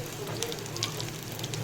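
Black pepper and cumin sizzle steadily in hot oil, a close, even crackle and spatter with no pauses.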